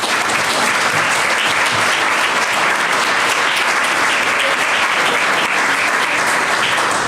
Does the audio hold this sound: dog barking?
no